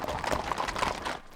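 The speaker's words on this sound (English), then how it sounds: "the horses pick up the pace" Horses moving along at a quickened pace in open Western country, their hooves clip-clopping in a steady, overlapping patter throughout at moderate loudness, with a faint rumble beneath.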